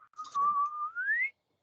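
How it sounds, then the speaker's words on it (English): A single clear whistle, steady then gliding upward in pitch, close by and alone against silence, lasting just over a second. "you hear somebody whistle"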